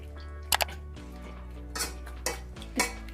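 Boiled eggplant is mashed in a pot with a utensil, giving a few sharp metallic clicks and taps against the pot, spaced irregularly over a low steady hum.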